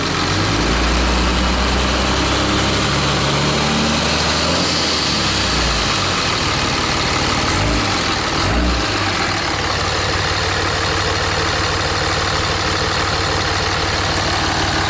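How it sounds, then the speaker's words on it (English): A Cummins diesel fitted with a 64mm Stealth drop-in turbo idles loudly and close, a steady heavy low rumble with a faint high turbo whine layered over it throughout. "Is it whistling out of there?"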